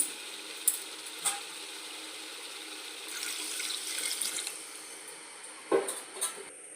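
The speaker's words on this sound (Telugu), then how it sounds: "మూడు గ్లాసులకి ఆరు గ్లాసులు వాటర్ వేస్తాను" Water streams steadily into a cooking pot for biryani rice, a soft continuous pour with a few sharp clinks of the vessel and a brief splash near the end.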